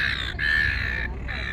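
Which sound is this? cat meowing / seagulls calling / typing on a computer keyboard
seagulls calling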